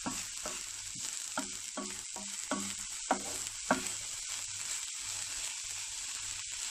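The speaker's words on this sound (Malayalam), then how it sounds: "നമുക്ക് വെള്ളമൊന്നും ഒഴിക്കാതെ ഈ എണ്ണയിൽ മാത്രം കടന്ന് ഇത് വെന്ത് കിട്ടും" Grated carrots stir-frying in oil for a Kerala carrot thoran, a soft steady sizzle broken by a series of rhythmic scraping stirs from a spoon in the pan, quiet and close with no voices.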